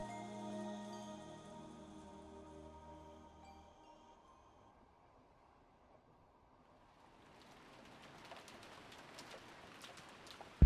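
Rain sound effect from the visual novel Umineko no Naku Koro ni, a soft patter that fades in and grows over the second half, after a fading musical tone; faint and gentle, no voices.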